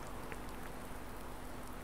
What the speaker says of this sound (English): just gotta wait for the rain to stop